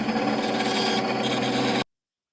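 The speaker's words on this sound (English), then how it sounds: "Let me just cut this on the bandsaw and I'll be right back." A bandsaw cuts through wood close by, a steady buzzing whine with a rough rasp that holds evenly for nearly two seconds, then cuts off abruptly into silence.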